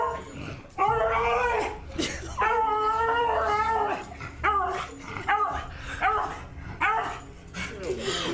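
A beagle howls in long, wavering, siren-like cries that sound like TIE fighters, with shorter yips and whimpers between them. The dog is close and loud throughout, and a few faint voices sit under it.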